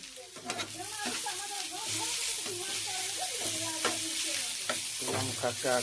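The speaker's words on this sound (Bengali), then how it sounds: "একটা কাঁচা লঙ্কা দিয়ে এটাকে আমি হালকা মিডিয়াম হাই ভেজে নেব" Chopped onion with cumin powder, coriander powder, salt and turmeric sizzles and fries in a pan while being stirred, with close scraping strokes of a spoon over a steady crackle; a voice is heard faintly in the background.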